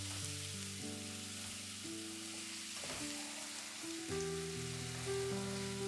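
Spice masala loosened with a little water frying quietly in a pan for a paya dish, a soft steady sizzle and hiss sitting beneath louder tonal background music.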